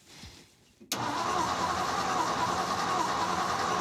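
A Ford truck's Y-block engine cranks over on the starter and then runs with a steady, close, loud churning drone after a brief quiet moment.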